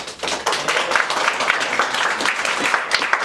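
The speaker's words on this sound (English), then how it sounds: "Everybody clap it up for Dalton." Audience applause for a volunteer at a live session, a steady dense clapping that fills the whole stretch at close range with no talk over it.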